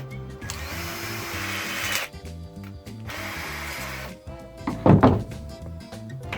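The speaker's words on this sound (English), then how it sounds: "Drill little pocket holes like that." Two bursts of a power drill whirring into wood to bore pocket holes, each about a second or two long, followed by a sharp thunk and some clattering.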